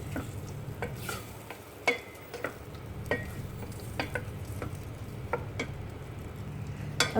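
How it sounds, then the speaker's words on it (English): Spoon stirring a pot of okra sothi just after turmeric powder goes in: soft scrapes and light clinks of irregular rhythm over a faint simmering sizzle, close and quiet, with no talk. "so I've already added the teaspoon of turmeric powder. Give it a good stir."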